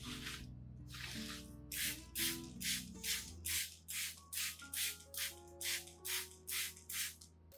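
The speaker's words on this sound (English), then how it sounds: "When spraying, make sure to cover both sides of the leaves." A hand sprayer mists a nutrient solution onto orchid leaves in about fourteen evenly spaced, close hissing pumps, over soft background music.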